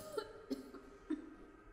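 A woman coughs three times in short, separate bursts about half a second apart. The coughs are dry, fairly faint and close, set in a Korean stage reading of the story 'A Lucky Day' with music, where she is a sick wife.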